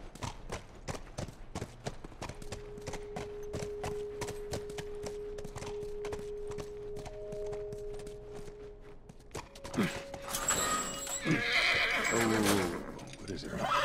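In The Last of Us Remastered, a horse snorts and whinnies loudly near the end, after a long run of steady, rhythmic hoof clip-clops on the ground.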